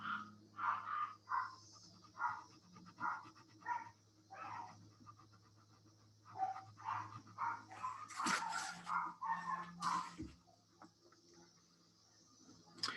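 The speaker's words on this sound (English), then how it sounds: "Not really sure what my dogs are barking at downstairs." Dogs bark repeatedly in bursts, sounding somewhat muffled and distant as if from another room, with a few louder barks near the end.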